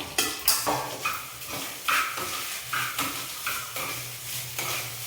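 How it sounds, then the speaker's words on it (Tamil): Coconut and curry leaves fry in a pan, the close sizzle punctuated by a regular series of scraping stirs and spatula knocks against the metal. "நம்ம எடுத்து வச்சுருக்கிற தேங்காய் போட்டு வறுத்து போட்டுடுவோம்."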